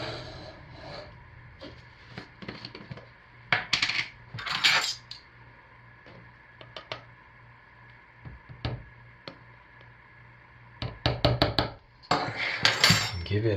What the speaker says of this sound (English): Give it a good stir and see what it looks like.